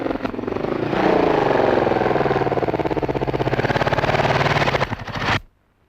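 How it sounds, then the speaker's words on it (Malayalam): A motorcycle engine drones close by with a rapid, pulsing putter that swells slightly as it nears, holds for several seconds, then cuts off abruptly into silence. "ഒരു മോട്ടോർ സൈക്കിളിന്റെ ശബ്ദം."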